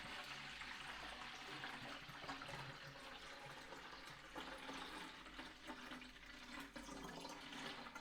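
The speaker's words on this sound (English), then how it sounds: "I'm going to pour in a couple of litres of water into my mixing jar." Water pours steadily into a mixing jar while setting up a Pinter 2 home-brew of Space Hopper Double IPA, a continuous even gush of running liquid, close and fairly loud, with no talking.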